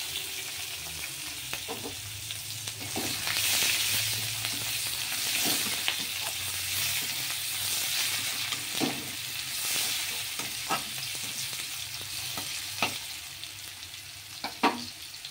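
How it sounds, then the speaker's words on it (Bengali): Onions frying in a pan give a soft, steady sizzle throughout, broken by repeated scraping stirs of a spatula at irregular intervals, close but fairly quiet, with no talk. "পেঁয়াজটা একটু হালকা ভাজা হয়ে গেলে"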